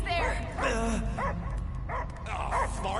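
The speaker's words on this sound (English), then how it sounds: "I hear only barking." A dog in the Guardians of the Galaxy PS5 video game gives a run of short barks and yips over a constant rumbling game soundscape.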